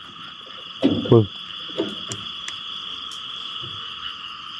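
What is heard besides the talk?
frogs croaking at night while frog hunting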